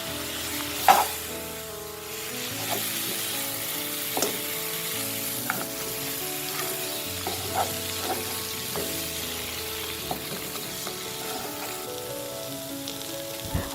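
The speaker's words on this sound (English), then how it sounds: "We then add the mutton bones and mix them well with the sautéed ingredients." Mutton bones sizzle in a pan as they are sautéed with mixed spice powders, a steady frying crackle with scattered pops and the occasional scrape of stirring, close and even throughout.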